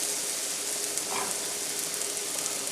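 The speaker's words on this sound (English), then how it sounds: "So we're going to throw some onions in there." Onions sizzle steadily in hot sausage fat in a pan, a dense, even crackling hiss close up with no talking.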